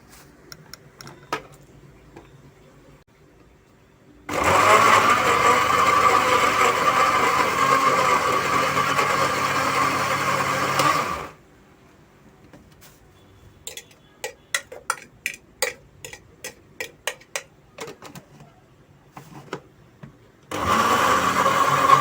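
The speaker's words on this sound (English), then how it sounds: "Now our apple is ready to be blended." Cooked apple being blended into baby puree: a loud, steady blender roar runs for about seven seconds, then quiet clicks and taps, then the motor starts again at the end.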